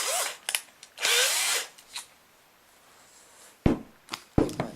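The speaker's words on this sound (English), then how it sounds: "Just drill like a 4mm hole" A power drill bores a hole in a game controller in short, near, whirring bursts, separated by quiet pauses and a few clicks and knocks.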